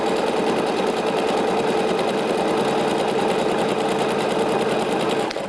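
A sewing machine stitching a gathering line in fabric with elastic thread, a fast even mechanical chatter running steadily up close, then stopping at the end.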